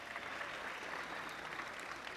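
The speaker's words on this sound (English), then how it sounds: "Can we give a round of applause for our sponsors?" Audience applause rings out at a high school basketball showcase event, a steady dense clapping sustained throughout at moderate level with no voices over it.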